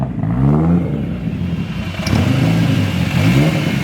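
A 1000 HP Mitsubishi Evo 9 engine revs hard up close, with two loud, rowdy bursts that rise and fall and a rattling clatter under them.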